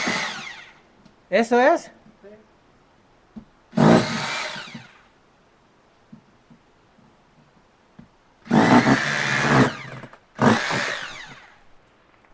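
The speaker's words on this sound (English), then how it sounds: "We got to drill the holes still." A power drill boring holes in a concrete planter: several separate loud whining bursts of a few seconds each, with quiet gaps between them and brief speech in between.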